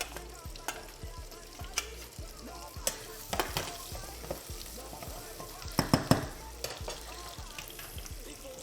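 Onions, ginger and garlic frying in a pan for a stew, a steady sizzle broken by scraping stirs and sharp clatters, with a brief voice in the background.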